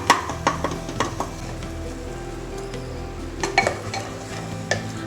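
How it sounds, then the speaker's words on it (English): Haleem sticking to the bottom of a cooker on high heat is stirred with a spoon, giving repeated close scraping knocks over a continuous sizzle. "So now I can already see it sticking to the bottom of the cooker and it's on high, so it needs a little bit of stirring"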